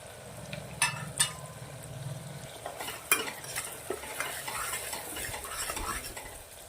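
Potatoes and peas sauté in oil and ghee with spices, a soft sizzle under repeated scraping and clinking of a spoon against the pot, with sharp metallic knocks and stirring sounds close by.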